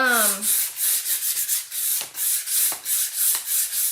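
Steady, rhythmic hand sanding, a scratchy abrasive rubbing in repeated back-and-forth strokes, close up with no talking.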